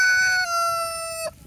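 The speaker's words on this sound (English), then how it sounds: "just came over to check on the meat chickens and they seem to be doing good" A rooster crowing once, loud and close, a long sustained call with a sharp drop at the end, heard outdoors near a pen of meat chickens on a small farm.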